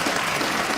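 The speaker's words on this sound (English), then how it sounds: "clap if you think you're going to heaven." A studio audience at a live comedy television show claps in a brief, dense burst of applause that fills the moment without any voices.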